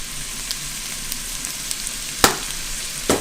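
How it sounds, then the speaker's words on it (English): Garlic and chili flakes sizzle steadily in a hot pan for a few seconds of soup prep, a constant crackling hiss broken by two sharp clanks near the end; no talking. "We're going to add a little bit of garlic, equivalent of about 2 cloves, about a teaspoon."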